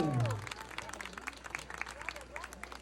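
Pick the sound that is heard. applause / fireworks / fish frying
applause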